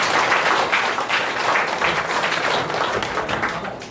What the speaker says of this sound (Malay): Bagi tepukan yang gemuruh kepada diri tuan-tuan.